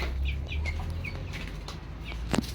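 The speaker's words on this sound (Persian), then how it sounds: "جوجه ها رو بگیرم" Chickens in a schoolyard cluck and chirp in short repeated calls, some fairly close, with one louder squawk near the end over a low background hum.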